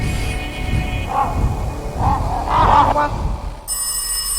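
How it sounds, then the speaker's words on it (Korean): A telephone rings in the horror game Rise of Insanity: three warbling trills, close and fairly loud, each separated by a short gap over a dark ambient hum. "전화 왔다."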